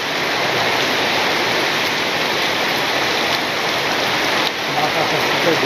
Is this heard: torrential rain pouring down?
yes